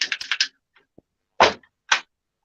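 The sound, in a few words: typing heard through the microphone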